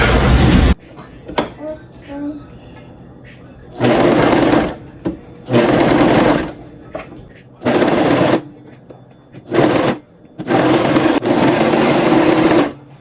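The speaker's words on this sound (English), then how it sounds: "pin it down, and go ahead and sew it" A sewing machine runs in several short bursts of rapid stitching on fabric, separated by pauses and quiet handling noises.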